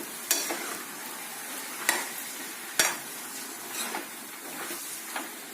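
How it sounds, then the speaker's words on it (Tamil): Potato is stirred into a frying onion masala filling for masala dosa, with a soft sizzle beneath a few sharp scrapes of a spoon against the pan, heard close up. "கொஞ்சம் பொட்டேட்டோ போட்டோன்னே நல்லா மிக்ஸ் பண்ணி விட்டுடுங்க."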